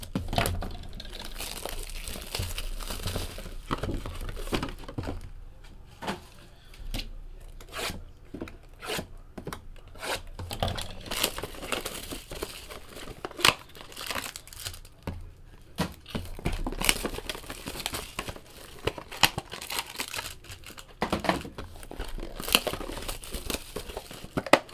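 Hands tear and crinkle the wrapping on a box of 2017 Panini Absolute NFL football cards, a long stretch of close, busy plastic rustling and ripping with no talk.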